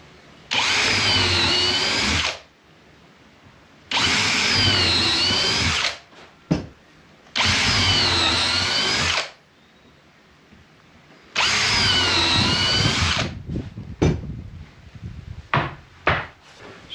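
A power drill bores holes into wooden deck boards for a floating deck, running in four long loud bursts of about two seconds each with pauses between, followed by scattered shorter clatters and knocks toward the end.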